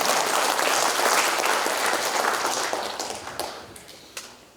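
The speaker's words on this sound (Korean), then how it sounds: "다시 한번 감사의 의미로 박수 한번 부탁드리겠습니다." Steady applause from a crowd at a book launch event, dense clapping that gradually thins and fades toward the end.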